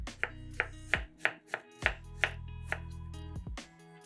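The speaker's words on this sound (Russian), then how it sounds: "Огурец нарезаем небольшими кубиками." A knife chops a fresh cucumber into small cubes on a cutting board, giving about a dozen sharp, close taps at an uneven, steady pace with no talk.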